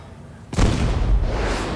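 A shot fired at a target in the Battleship game for iPhone lands as a single sudden, loud boom after a quiet lead-in, then a long rumbling tail.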